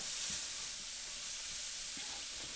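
Mushrooms and shallots frying in oil in a pan, a steady close hiss of sizzling with a few soft stirring knocks, continuous and even throughout without any voices.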